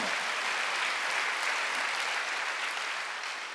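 Church congregation applauding during a Wednesday worship service, a steady dense wash of many hands clapping that holds evenly throughout and fades slightly at the end, with no voices over it.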